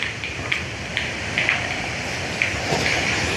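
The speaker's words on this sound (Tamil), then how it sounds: "பயங்கரமான காத்தோட அடிச்சு கொண்டிருக்கு இந்த மழை" Heavy rain pours steadily with gusty wind in Jaffna, scattered sharper drops and rattles popping through the dense hiss.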